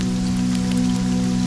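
Steady rain falling on a surface, a dense continuous patter with a low hum beneath, heard in a hall by a fireplace.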